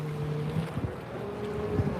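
An offshore racing powerboat's engine runs rough, a low, uneven drone with sputtering surges, heard outdoors amid wind noise.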